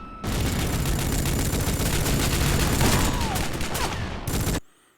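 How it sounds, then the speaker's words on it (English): An auto-firing turret made from a deployed rifle in Rogue Trooper Redux lets off loud, continuous rapid gunfire for several seconds, a dense unbroken barrage close up that cuts off abruptly near the end. "he can also be used to deploy your rifle as a turret"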